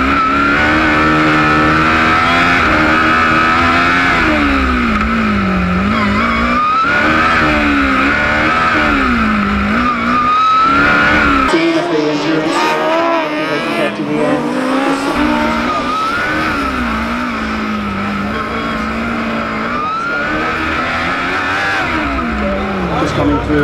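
A Chalmers Formula Student race car cornering during the FSG endurance final: a high, revving engine note that rises and falls through the bends, with tyre noise and continuous commentary over it.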